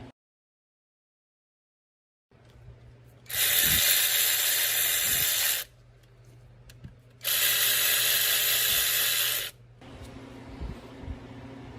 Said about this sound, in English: So now we'll put the center bolts in, torque them to 20